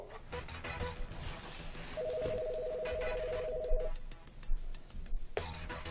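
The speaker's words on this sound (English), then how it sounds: "Dial 4 now to call my cell phone" A string of rapid telephone keypad tones from a small office phone system dials a cell phone, a clean steady beeping burst of about two seconds set over faint background noise.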